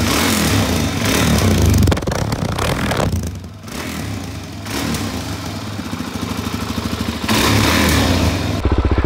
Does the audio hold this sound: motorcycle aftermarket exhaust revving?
yes